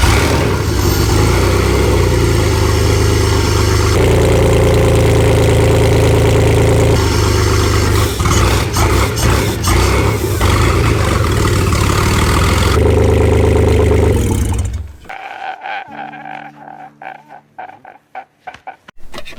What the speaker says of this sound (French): le moteur tournait au ralenti, il tournait bien au ralenti